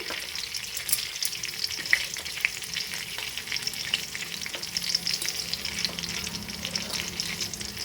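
Chana dal and shredded cabbage fry in a pan, a bright continuous sizzle with crackling pops and occasional stirring scrapes, close up and moderately loud, with no voices.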